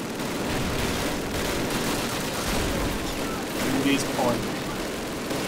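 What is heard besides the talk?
gunfire in the video game Call of Duty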